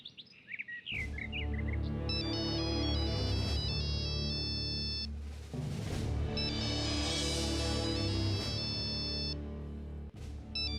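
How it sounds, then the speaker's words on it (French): A mobile phone ringtone plays alone in a domestic scene, a bright repeating chirpy melody that rings in two long phrases over a sustained musical backing. "Reka, c'est ton portable qui sonne."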